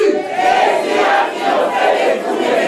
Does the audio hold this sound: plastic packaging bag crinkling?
no